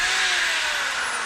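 An electric drill drives the dynamo of a Rolls-Royce Springfield Phantom 1 under load. It gives a loud, steady whine close up with a slightly falling pitch as the drill slows.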